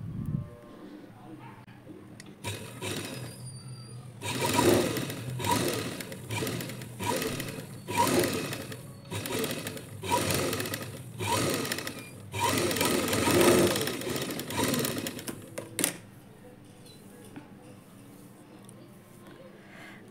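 A sewing machine stitches the lining to a blouse neckline in quick rhythmic bursts of rapid mechanical chatter, starting and stopping several times close up, then a quiet tail with faint background noise.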